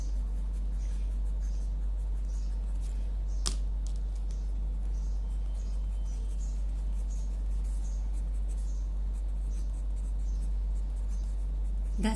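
Colored pencils cross-hatching on paper, a steady soft scratching of lead strokes running throughout at close range, with one brief sharper tap partway through.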